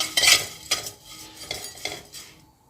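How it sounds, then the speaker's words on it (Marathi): Poha being dry-roasted in a hot kadhai, with a handful of quick scraping and clinking stirs of a metal spoon against the pan in short bursts, close and clear, then fading to quiet. "पोहे दोनच मिनिट भाजून घ्यायचं"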